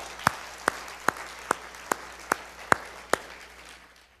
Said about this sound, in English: Give the Lord a hand clap of praise today.